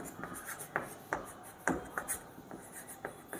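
Pen strokes scratch and tap across paper while numbers are written out for a maths problem, a quick irregular series of short close scrapes and taps with no voices.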